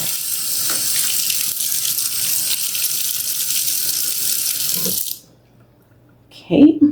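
Tap water gushes steadily over aquarium gravel being rinsed, then cuts off abruptly, followed after a short silence by a brief clatter.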